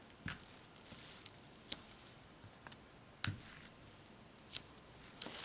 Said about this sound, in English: turn it over and tape the back